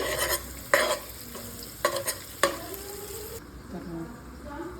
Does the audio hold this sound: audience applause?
no